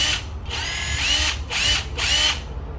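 A Makita TD130 14V cordless drill running under test. It whines in several short bursts, revving up and down with brief pauses between them, close and loud, with no talking.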